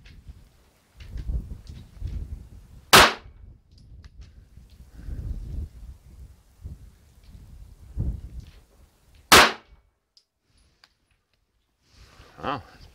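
Handloaded Hornady XTP bullets over 5.2 grains of Unique powder fired at a range. Two loud, sharp gunshot reports come about six seconds apart, with people talking between them.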